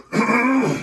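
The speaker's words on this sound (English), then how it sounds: "I'm going to clear my throat one last really big time" One big, deliberate throat clearing from a person, a single rough rasping burst that starts after a brief pause and holds steady for most of a second, close and fairly loud with no talk over it.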